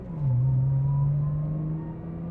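A 150,000-mile Nissan R35 NISMO GT-R with a rebuilt transmission pulls through a 2-3 gear shift, its engine drone dipping at the change and then climbing steadily, heard from inside the car with no talk.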